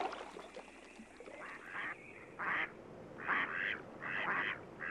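Mallard duck quacking at a marsh pond, a series of loud nasal calls in bursts that grow more frequent toward the end, close by over faint background ambience.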